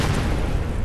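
A nuke blast in a Fallout horror mod, a heavy low rumbling boom that fills the whole short moment with dense, loud roar and no talking.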